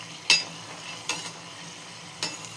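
Maida flour pakoda frying in hot oil gives a soft, steady sizzle, broken by three sharp scraping clinks of a utensil against the pan, spaced about a second apart.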